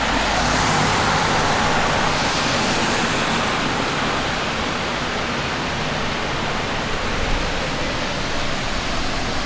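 Steady, loud broadband roar of cars on a road near a glacier-fed waterfall in Norway, a continuous wash with no distinct pass-bys or pauses, heard alone without voices.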